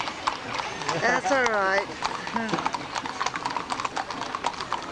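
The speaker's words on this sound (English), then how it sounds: "These are Appaloosas. These are nice horses." Appaloosa horses pulling original wagons clip-clop steadily on the ground, with a horse's whinny partway through, while a person talks nearby.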